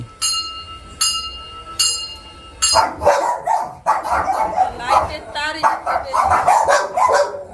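A few ringing bell-like tones give way to a puppy's high, rapid yelping barks, repeated close up.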